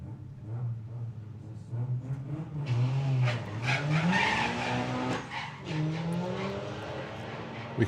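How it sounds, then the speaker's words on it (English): Drag racing cars, including an electric Beetle and a Golf, launch with loud tyre squeal over rising engine revs, the screech building and wavering for several seconds close up. "We can hear the tyres protesting there for Sam"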